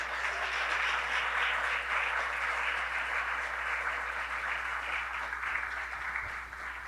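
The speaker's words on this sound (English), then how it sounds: "how about a round of applause for the pet band today?" A crowd at a university athletics press conference gives the pep band an even, sustained round of applause, dense and moderately distant, easing slightly near the end over a low steady hum.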